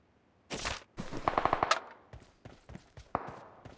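Machine gun fire in a video game: a short sustained burst followed by a rapid run of evenly spaced shots, then scattered single cracks, loud and close with no talk over it.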